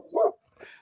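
A dog gives a single short, fairly close bark, followed by a softer trailing yelp or whimper.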